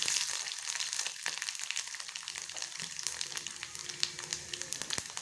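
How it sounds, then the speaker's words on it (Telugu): Cumin, mustard seeds and urad dal crackle in hot oil as a tempering for village-style tamarind-leaf dal, a close, steady sputter studded with sharp popping bursts throughout, with no voices. "ఇప్పుడు జీలకర్ర, ఆవాలు, మినపప్పు తాలింపు వేస్తున్నానండి. అది కొంచెం చిట్టపట్టలాడగానే"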